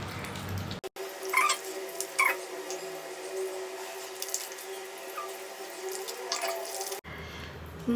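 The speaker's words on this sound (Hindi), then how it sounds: "मैं इसको सिंपल पानी से वॉश कर लेती हूँ" Water runs steadily from a tap into a sink as a face is rinsed with plain water, a continuous close splashing wash broken by a short cut near the start and a louder shift near the end.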